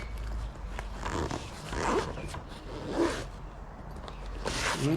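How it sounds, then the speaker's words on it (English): A dent repair kit case is zipped shut in several scratchy zipper pulls, close and fairly clear against light handling noise. "So I'm going to zip this kit up."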